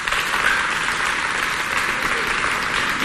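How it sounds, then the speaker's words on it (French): Dense, steady audience applause fills the whole stretch at close range, a loud continuous wash of many hands clapping at an event during a match between two coordination teams, with no voices over it. "Et ça s'applaudit quand même."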